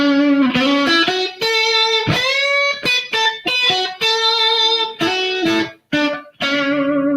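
Electric guitar through an overdriven amp plays distorted, sustained notes and chords with short pauses between phrases, close and loud, with no talk.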